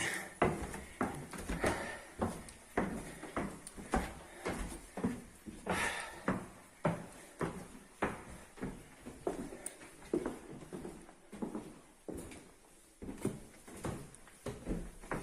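Repeated rattling and knocking of a door being tried while locked in a cellar during a paranormal investigation, a rapid series of wooden clunks and handle jiggles, fairly close and steady throughout.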